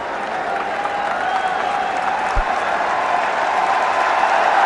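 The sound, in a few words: crowd applause at cricket match in Kanpur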